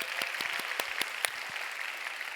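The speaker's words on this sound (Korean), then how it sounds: "다시 한번 워십팀에게도 박수 한번 하겠습니다" A congregation at a Sunday youth worship service claps in a faint, thin, scattered way, with distinct individual claps standing out over a soft background.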